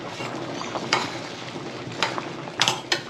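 A pot of rice boiling and bubbling, a steady low simmering hiss with a few sharper pops and clinks of the pot breaking through, heard close and fairly quiet.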